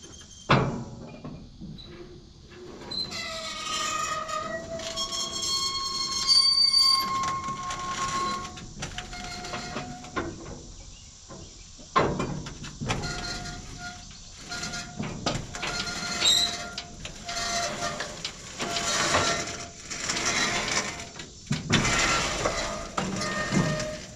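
The knotter mechanism of a hay baler being turned over by hand, giving a series of metallic clanks, clicks and ringing scrapes, some sharp and loud, spread irregularly with short pauses between them.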